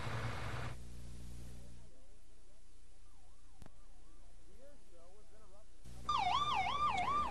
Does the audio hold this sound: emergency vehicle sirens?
yes